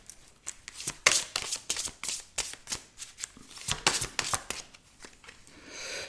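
A deck of tarot cards is riffled and shuffled by hand, a quick series of crisp, papery bursts in uneven rhythm, close up and fairly loud, with nobody speaking.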